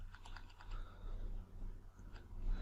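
Quiet keystrokes on a computer keyboard as a search query is typed, a short run of light clicks at a distance over a low steady hum.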